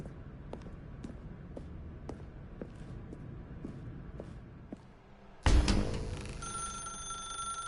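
A telephone rings in The Stanley Parable video game, first as a steady train of soft regular pulses, then as a sudden loud, sustained bright ringing tone that fills the rest of the clip.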